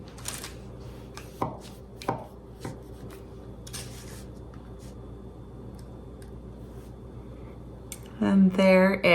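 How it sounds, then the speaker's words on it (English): A knife cuts a pan of butterscotch confetti bars into squares, giving several soft, close, scattered chopping and scraping taps, followed by a brief voice at the end. "I'm gonna cut it up into some squares and show you what it looks like."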